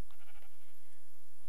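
Sheep in the Minecraft video game bleat in a pasture, a few short nasal calls at moderate level over a quiet background.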